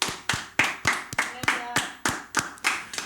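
A church congregation at a Sunday worship service claps in glory to God, with loud, steady, evenly spaced claps repeating about every third of a second, close and prominent.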